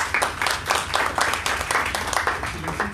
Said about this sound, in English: Call this meeting to an end with another round of applause for